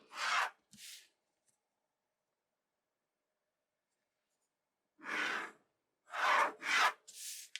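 Pencil drawn along a ruler on a paper sleeve pattern, marking straight vertical lines from the notches to the hem: two short scratchy strokes, a long silence, then three or four more quick strokes, close and fairly soft.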